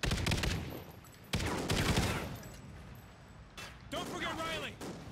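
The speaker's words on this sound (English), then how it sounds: "there's a fucking like 15 enemies shooting me" Enemy gunfire in Call of Duty Ghosts, set in a Sin City mission, comes in loud bursts of rapid shots separated by short pauses, with talking over the firefight.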